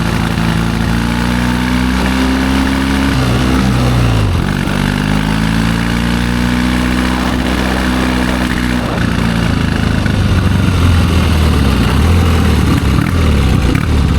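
A 1972 Triumph 650 Bonneville motorcycle engine running roughly, a loud close rumbling idle with uneven, wavering pitch and a brief dip partway through, continuing steadily without talk.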